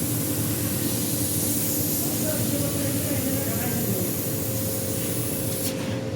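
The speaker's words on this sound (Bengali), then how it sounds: "দেখুন কিভাবে লেজারে কাটে।" A laser cutting machine slices through a 10 mm metal plate with a steady, loud hissing spray, continuous and close throughout, with a faint low mechanical rumble underneath.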